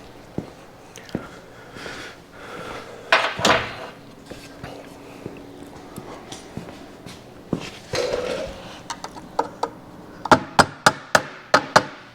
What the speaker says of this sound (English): let me go grab a hammer so I can tap that back in.